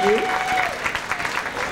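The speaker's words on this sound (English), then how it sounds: "Versage, you can clap, yeah." Audience members at a female impersonator pageant, the National Entertainer of the Year contest, break into applause, a short burst of clapping following a brief vocal fragment and fading quickly.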